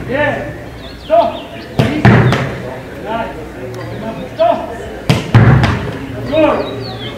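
Powerful football shots striking a goalkeeper's hands during training, several sharp slapping thuds spaced irregularly, heard among shouting voices on the pitch.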